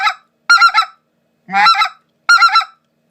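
Loud, close bursts from a Basin Calls Ricer or Crusher speckle-belly goose call, with rapid stuttering honk clusters and a lower grunting note linked into a short calling run, separated by brief silences.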